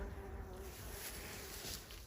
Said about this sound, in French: vous entendez toujours des bourdons et des abeilles